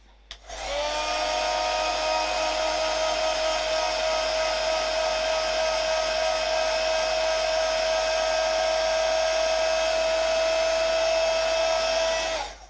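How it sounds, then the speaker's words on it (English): Heat tool blowing steadily to dry a watercolour-stamped card, a close, even high-pitched whir that switches on, holds constant for about twelve seconds, then cuts off. "Let me just dry that off."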